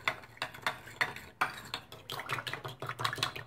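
Chicken nugget ingredients with a pinch of salt stirred in a bowl, a utensil clinking and scraping in a quick, uneven rhythm, close but fairly soft, with no one talking.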